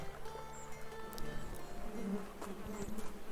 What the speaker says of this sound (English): I can hear the bees.